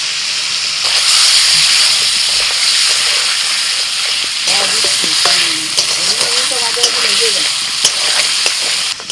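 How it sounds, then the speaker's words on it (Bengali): Ginger garlic paste hits a hot pan and sizzles loudly while it is stirred, a close, continuous frying hiss with scraping spoon strokes running through it. "এবার দিয়ে দিচ্ছি আদা রসুন বাটা এক চামচ মতো"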